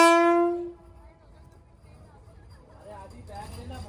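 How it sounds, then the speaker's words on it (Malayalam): A Vande Bharat Express train arrives at a station on the Srinagar to Katra line in Kashmir, opening with one loud, sustained horn blast of under a second, followed by a low, quieter rumble of the approaching train. "ഇപ്പോൾ ഇതാ നമുക്ക് പോകാനുള്ള വന്ദേ ഭാരത് വരികയാണ്"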